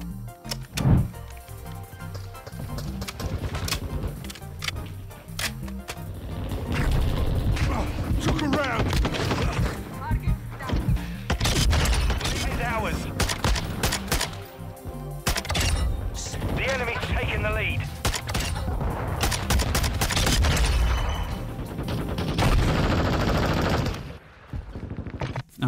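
Gunfire in the video game Modern Warfare 2, dense repeated shots and mechanical clatter filling the whole stretch, loud and close, with a voice talking over parts of it.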